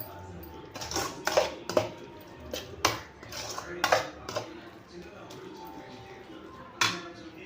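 A spoon stirs snake gourd kootu in a metal pan, giving repeated sharp clinks and scrapes in an uneven rhythm, close and moderately loud, with a soft voice murmuring underneath.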